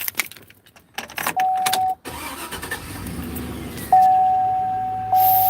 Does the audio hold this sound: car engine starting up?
yes